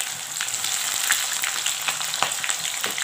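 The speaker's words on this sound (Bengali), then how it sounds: "পেঁয়াজটা গোল্ডেন কালারে ফ্রাই করতে হবে" Sliced onion frying in hot oil with cumin, a bay leaf, cardamom and clove, a steady close crackling sizzle that holds throughout with small pops and no talking.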